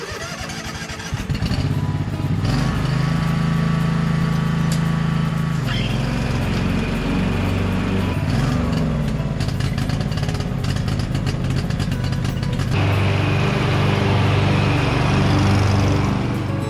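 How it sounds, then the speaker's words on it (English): A John Deere Z445 zero-turn mower with a carburetor fault runs close by, its engine droning loudly and unevenly, surging and shifting in pitch over a rough, continuous roar. "So the mower ran pretty lousy."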